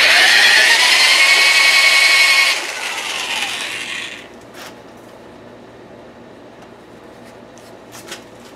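A ratchet spins fast and loud, loosening a bolt on a sheet metal brake being mounted to a workbench. The rapid clicking fades after a few seconds, followed by a near-quiet stretch with a few faint taps.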